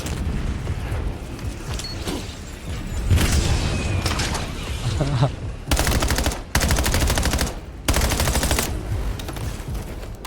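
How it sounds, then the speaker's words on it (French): Rapid automatic gunfire and explosive blasts in a Black Ops 7 campaign firefight against spiders. Loud, dense bursts crackle in several repeated stretches over rumbling background combat. "J'envoie une bombe collante."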